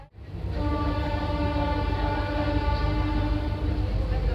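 A train departing Kurduwadi Junction rumbles close and steady after a brief quiet start, with a sustained horn tone held throughout over the low rolling noise.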